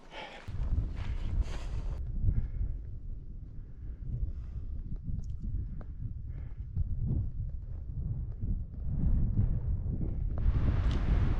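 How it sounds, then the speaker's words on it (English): Strong wind buffets a microphone at a mountain campsite a little above 10,000 feet on the Colorado Trail, a continuous low roar and rumble throughout with gusty swells and no talk. "it's a little windy up here"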